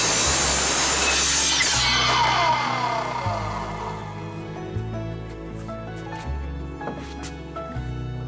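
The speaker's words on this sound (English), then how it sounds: "First I cut the 4-inch pipe to size." A 4-inch pipe for a dragon fruit trellis is cut to size with a power saw, giving a loud, steady grinding whine that settles into lower, uneven cutting tones as the blade works through, close by.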